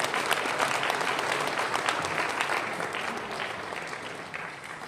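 Sustained applause from a church audience welcoming a pastor to the front, a dense steady clapping that slowly fades toward the end, with no talking over it.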